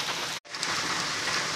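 Heavy rain pours down in a village as a dense, steady hiss that fills the whole stretch, broken by one very short cut.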